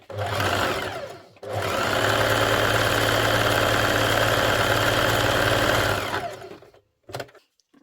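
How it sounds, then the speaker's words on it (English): A sewing machine stitches pocket and pocket lining layers together for a jetted pocket, a loud close rapid mechanical whir in two runs, a short burst then a long steady stretch, ending with a few brief clicks. "Take the pocket lining, take the pocket, sew them together."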